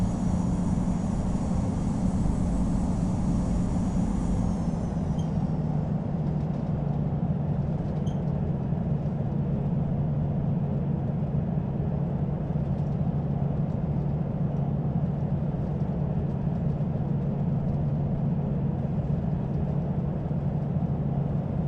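A Delta A319 airliner taxis in the Infinite Flight flight simulator: a steady, loud engine whine and broad roar that holds for the whole stretch, with a high tone that fades early on, and no voices.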